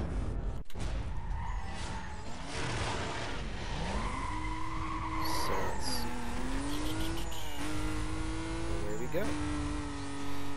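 Racing game engine roar from Need for Speed Most Wanted Black Edition, with rising gear-shift whines and screeching tire skids sustained loudly throughout, car audio alone and dense.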